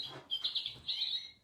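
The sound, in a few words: small birds chirping and calling near feeder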